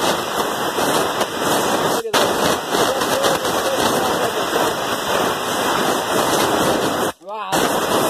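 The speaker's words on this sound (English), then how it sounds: "We're going to use compressed air to clean off this valve cover." Compressed air blasting dirt off a 7.3 Powerstroke diesel valve cover: a loud, harsh, continuous hiss broken by two short pauses, close to the microphone.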